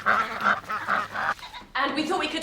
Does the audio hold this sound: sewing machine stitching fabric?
no